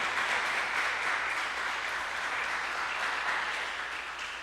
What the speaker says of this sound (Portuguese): Você pode aplaudir ao Senhor pela palavra.